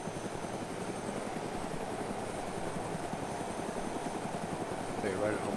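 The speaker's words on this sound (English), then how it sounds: "I hear the helicopter." A video-game helicopter drones steadily nearby with a rhythmic rotor chop throughout, under intermittent speech.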